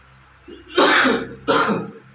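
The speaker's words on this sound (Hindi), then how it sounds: "खांसी आ रही।" Two harsh, close coughs in quick succession, the first longer than the second, with a quiet room before and after.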